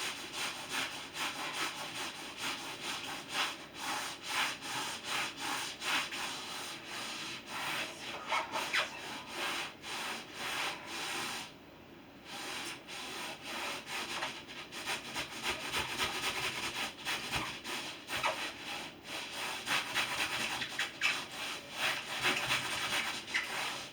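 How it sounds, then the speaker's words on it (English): A floor being scrubbed with an old brush, continuous rapid rasping back-and-forth strokes, close and fairly loud with a brief pause midway, no voices. "to scrub the floor"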